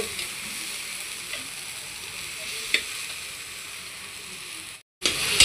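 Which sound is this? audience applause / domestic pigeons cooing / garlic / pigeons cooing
garlic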